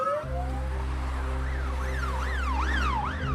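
A loud wailing siren sweeps up and down, rising in pitch and speed into a fast yelp, with a steady low engine drone beneath.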